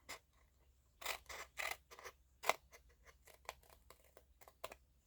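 Scissors snipping through ribbon for a slide pocket craft, with a series of crisp, close cuts in quick, uneven rhythm, some louder blade closes standing out against a quiet room.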